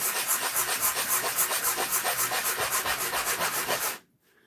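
Coarse 100 grit sandpaper rubs rapidly back and forth over a knife, a loud, close, rhythmic gritty rasp that stops abruptly near the end.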